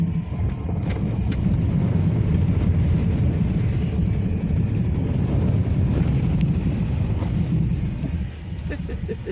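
A car rolls through a muddy puddle on a rain-soaked road, a steady low rumble of engine and tyres with splashing wash and wind buffeting the microphone throughout, dipping briefly near the end.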